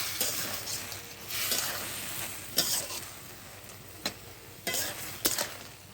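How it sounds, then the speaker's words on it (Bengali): Tiger prawns frying uncovered in a pan after briefly steaming, with a steady soft sizzle broken by sharp stirring scrapes and clinks of a utensil against the pan at irregular intervals, close up and without talk. "এভাবে ভাজতে দেখতে হবে"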